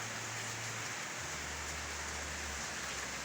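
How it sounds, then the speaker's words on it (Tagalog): Heavy rain pours outside in a steady, dense hiss, with a low hum beneath it and no voices. "Malakas ang ulan dito sa lugar natin ngayon."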